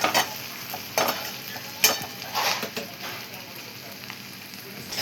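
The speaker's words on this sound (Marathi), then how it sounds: "मिक्स घेतलेलं गवार टाकल्याच्या नंतर सगळं मिक्स करून घेणार आहे आपण" Cluster beans (gavar) frying with tomato in a pan are stirred, giving a continuous hiss of sizzling broken by scraping strokes of the spoon, close up and without talk.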